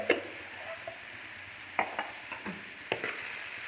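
Cumin seeds tipped into a radish paratha filling and stirred by hand, giving a few soft scraping and tapping sounds against the bowl over a quiet background.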